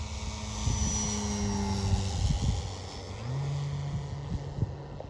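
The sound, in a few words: radio-controlled model airplane low pass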